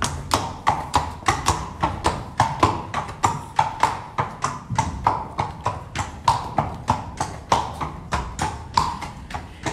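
A Spanish horse steps in an arena doing the Spanish walk, its hooves striking in a steady, evenly spaced rhythm of sharp thuds, close and clear throughout.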